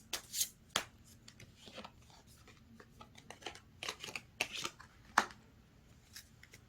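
Tarot cards shuffled and handled to draw a single card, producing a series of soft, irregular riffling and slapping bursts close by, with a few sharper flicks and no talking.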